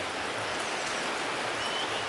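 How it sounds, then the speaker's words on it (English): Moderate to heavy rain falls steadily, an even, broad hiss of drops with no clear pattern, fairly faint and continuous throughout, no talking. "Moderate to heavy rain."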